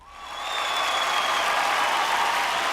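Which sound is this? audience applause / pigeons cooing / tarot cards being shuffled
audience applause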